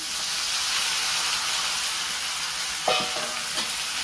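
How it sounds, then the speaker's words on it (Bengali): Cauliflower florets drop into a hot pan of oil, giving a steady loud sizzle and hiss, with a few sharp scrapes of stirring near the end. "এবার প্রেসার করতে ফুলকপি দিয়ে দিই।"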